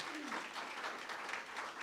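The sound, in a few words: applause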